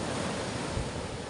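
Sea waves washing onto a beach at the shore, a soft, steady broadband wash with some wind, fairly distant and quiet, with no talking.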